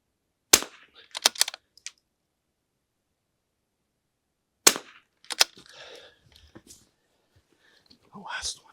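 Rimfire rifle gunshots at an outdoor range, sharp close cracks in two bursts, a quick cluster of three or four shots, then a pause, then a single shot followed by a couple more, with people talking quietly between them.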